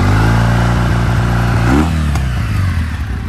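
Kawasaki W650 motorcycle with rejetted carburetion and baffles cut out, idling loud and close, then a single quick rev that rises and falls back, with a slight rattle as it settles.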